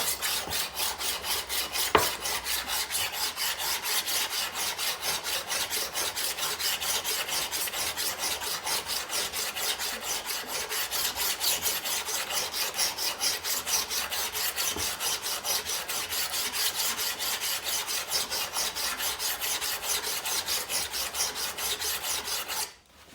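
Steady rasping strokes of a file or abrasive working rust pits near the pivot of pruning shears, a fast even back-and-forth scrape that runs loud and close without pause until it stops abruptly at the end.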